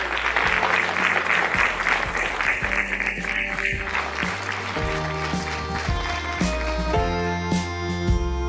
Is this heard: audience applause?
yes